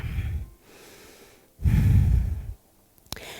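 Deep, audible breaths during a yoga flow, with a long exhale, a softer inhale and then a strong, full breath, close to the ear, ending with a faint click.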